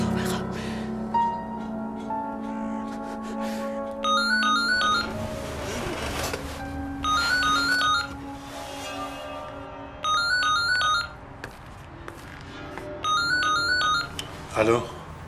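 A telephone rings during a tense call, sounding in four separate electronic bursts spaced a few seconds apart over a low, steady background score.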